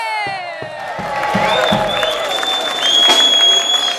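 Crowd at a Limburg carnival song contest cheers and applauds with whoops and shouts, while a sustained musical tone and a few low thumps sound through the noise.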